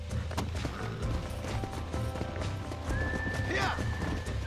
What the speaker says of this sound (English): This horse does not like being ridden.